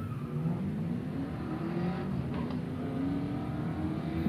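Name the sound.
drag racing car accelerating down the strip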